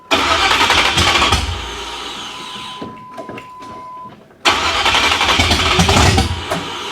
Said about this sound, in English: Yeah, I think she's misfiring.